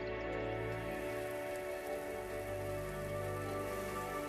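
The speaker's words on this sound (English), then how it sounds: "the long-awaited rain returns" Long-awaited rain falls over parched land, a steady, even patter and hiss throughout with a soft low tonal bed beneath.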